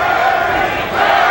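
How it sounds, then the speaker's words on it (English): Boxing arena crowd at a WBC light middleweight title fight, a loud sustained roar of voices chanting for Donald Curry, dense and close with no pauses. "Crowd once again chanting for Donald Curry"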